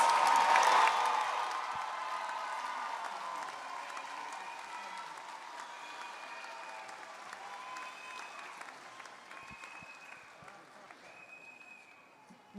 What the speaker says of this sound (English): Now let's give a lively round of applause to all of our College of Public Affairs graduates.